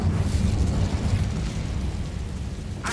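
A fire spell cast in the Hogwarts Legacy video game: a loud, sustained rumbling whoosh of flame that roars continuously throughout, with a sharper crackling burst near the end.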